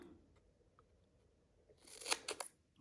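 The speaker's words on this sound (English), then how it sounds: "And then I'm just going to cut it." Scissors cut paper squares for a handmade shaker card, a few quick, crisp snips near the end after a mostly quiet stretch.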